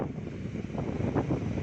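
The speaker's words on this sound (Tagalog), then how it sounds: "ang lakas ng hangin" Strong wind by the sea on the Quezon coast, a faint, steady gusty rush buffeting the microphone, with no voices.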